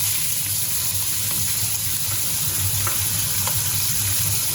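Red onions hit hot rendered lamb fat and fry with a steady, close, bright sizzle that crackles continuously for several seconds, with no talking.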